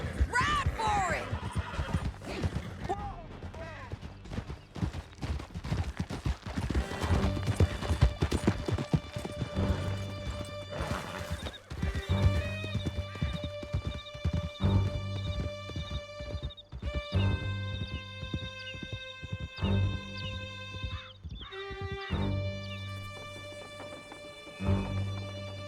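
Horses gallop in Red Dead Redemption 2, rapid hoofbeats clattering throughout with neighs, mixed with game music and shouted voices.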